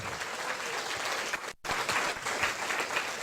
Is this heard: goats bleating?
no